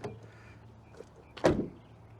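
Door of a 2022 Toyota C-HR subcompact crossover swung shut with a single solid, close thump after a few faint handling clicks.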